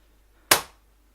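A KJW M700 HPA airsoft sniper rifle fires a single shot, one sharp close crack that decays quickly into silence after a quiet lead-in.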